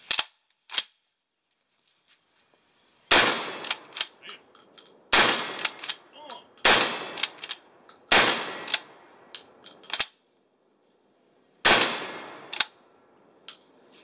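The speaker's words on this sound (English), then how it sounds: "First time either one of us have shot this" Gunshots from a straight-stock rifle on a squirrel hunt ring out as about six sharp, loud, close reports at irregular intervals, each trailing off into a brief echo, with quiet stretches between.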